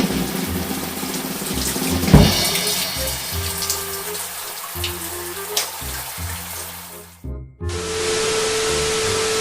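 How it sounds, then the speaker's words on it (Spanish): Water from a home shower in Cuba runs in a steady, loud, hissing stream, with low tones underneath. It cuts off briefly near the end before a bright, even spray resumes. "Y aquí ya voy a bañarme y voy a disfrutar de mi ducha"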